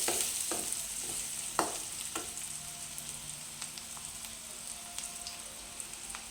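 Onions frying lightly in a pan for a kurma to serve with puri, giving a steady soft sizzle with a few sharp utensil taps and scrapes against the pan, no voices.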